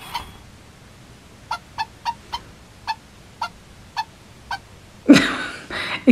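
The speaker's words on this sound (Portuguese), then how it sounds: "Olha uma galinha agora, viu?" Robot toy dog giving a chicken-like clucking call: a series of short, evenly spaced electronic clucks, followed by a louder, longer squawk burst near the end.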